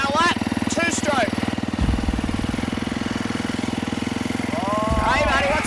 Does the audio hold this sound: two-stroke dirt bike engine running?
yes